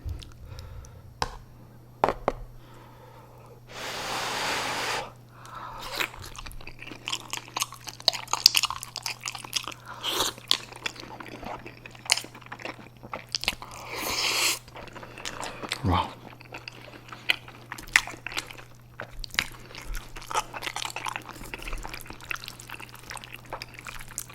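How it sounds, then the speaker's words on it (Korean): Close, wet chewing and biting sounds of someone eating spicy mala xiang guo at extreme level-five heat, with occasional clinks and pours, under intermittent talk and a steady low hum. "그럼 오늘도 맛있게 먹겠습니다"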